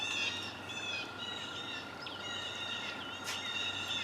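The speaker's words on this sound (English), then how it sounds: "That's the sound of toads." Toads call outdoors along a muddy, thorny utility easement in May, a steady ringing chorus of overlapping trills that carries on throughout with no pauses and no voices.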